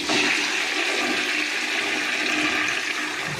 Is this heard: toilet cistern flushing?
yes